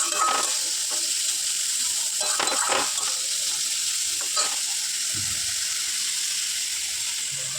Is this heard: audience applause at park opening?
no